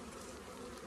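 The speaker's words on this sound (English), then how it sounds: "Oh, and I still have a bunch of bees stuck in here." Russian honey bees buzz steadily in a dense, close swarm, a continuous faint drone with no voices.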